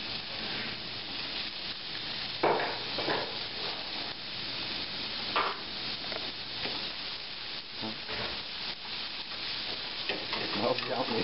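Chopped onion frying in a pan, a continuous close sizzle and hiss with occasional stirring scrapes and louder bursts as the pieces are moved, no talk.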